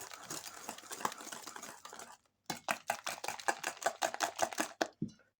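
Batter being stirred after slaked baking soda is added, first a dense scraping swirl, then a brief pause, then rhythmic quick taps and scrapes of a utensil against a bowl, close up.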